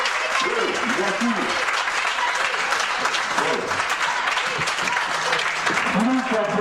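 Audience applause at an exhibition opening marking a club's 50th anniversary, dense continuous clapping across the whole stretch with a voice talking over it intermittently.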